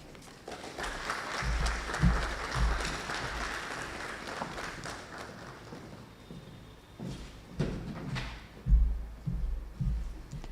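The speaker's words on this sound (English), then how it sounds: "Another round of applause for Dr. Abena Yeboah Banin." An audience at a media and communications review launch gives a round of applause, a moderate patter of many hands with some louder close claps and low thumps, easing off in the middle before swelling again.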